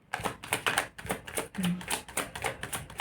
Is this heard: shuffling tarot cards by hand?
yes